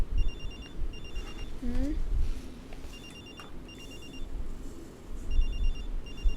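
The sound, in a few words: phone ringing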